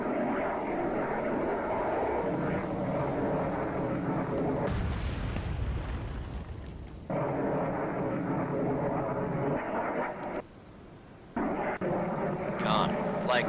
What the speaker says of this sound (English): Con, Flyco, aircraft dropping weapon